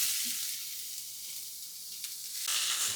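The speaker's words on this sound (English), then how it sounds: "Every sizzle was perfectly timed." Steady, bright sizzling of cabbage frying in hot oil with browned urad dal, a continuous crackling hiss that swells slightly near the end.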